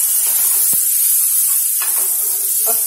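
Chopped vegetables for a yeast-free stovetop veg pizza sizzling in a hot pan while being stir-fried, a loud steady hissing spray that runs unbroken, with a few brief scrapes of stirring.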